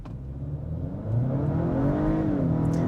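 A 2025 Acura RDX A-Spec SUV accelerates at full throttle with stability control off, its engine note climbing steadily and growing louder after about a second, a close, sustained rising drone with no talking.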